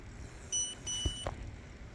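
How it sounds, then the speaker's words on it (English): A Keystone Peak e-bike horn gives two short electronic beeps, thin and fairly faint over quiet outdoor background, with no talk. "Nobody in a car is ever going to hear that horn."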